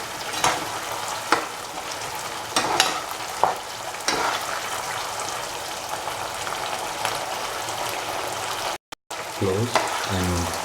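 Shallots simmering in a roasted coconut stew are stirred in a pan, giving a steady sizzle with intermittent scraping knocks of the spoon, close and moderately loud, with no talk.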